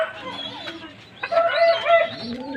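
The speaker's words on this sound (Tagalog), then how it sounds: "papatokan muna tayo ng ating mga alagang manok at saka mga ibon" Chickens cluck and squawk close by in a lively farmyard mix, with a rooster's call rising over the flock partway through.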